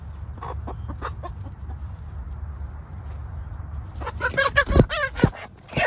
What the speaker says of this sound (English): All right, chicken, you gotta get out of here.